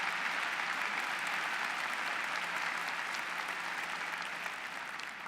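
Steady, dense audience applause at a college commencement ceremony, sustained and fairly loud throughout before tapering slightly at the end, with no speech over it.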